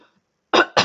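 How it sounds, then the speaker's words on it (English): Two quick harsh coughs close to the microphone, one right after the other, following a moment of near silence. "Sorry, I'm coughing."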